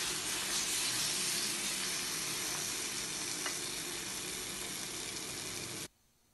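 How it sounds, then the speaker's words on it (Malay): Steady loud sizzling of eggplant frying in oil over low heat, with occasional stirring, cutting off abruptly near the end. "biar dia masak dengan api yang perlahan"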